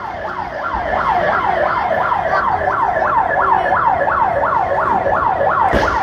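A fire truck's loud wailing siren sweeps up and down repeatedly, close by at a fire, over a steady rumble of traffic, with a sharp thud near the end.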